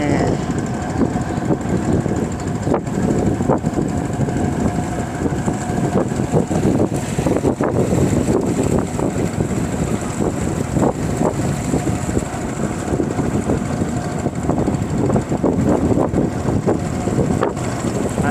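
Small fishing boat's engine, restarted after stalling, running with a steady rough drone out on open water, with heavy wind buffeting the microphone throughout.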